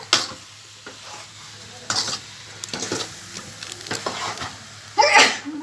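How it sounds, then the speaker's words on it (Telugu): Food frying in oil is stirred and mixed in a pan, with a low steady sizzle under repeated scraping strokes and clinks, ending in a louder burst of scraping. "మిక్సింగ్ చేసుకోవాలి. పైకి ఆయిల్ వచ్చేవాడికి బాగా మిక్స్ చేయాలి."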